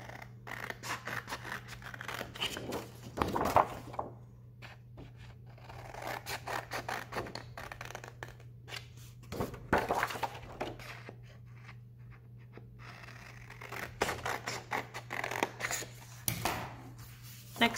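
Repeated snipping and crisp cutting sounds of scissors through paper, close by, in irregular bursts with brief pauses and a low steady hum underneath.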